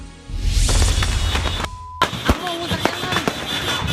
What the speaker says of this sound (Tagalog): Tuloy-tuloy kasi ang putukan.